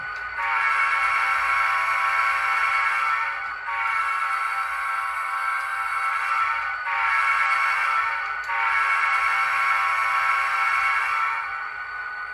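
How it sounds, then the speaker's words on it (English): A Scale Trains model Southern GP30 locomotive's horn blows in three long sustained blasts separated by brief gaps, loud and close, with a steady engine rumble beneath. "let's go ahead and listen to this beautiful horn that's on this locomotive"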